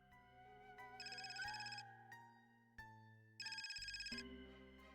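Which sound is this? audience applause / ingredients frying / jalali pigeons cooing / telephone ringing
telephone ringing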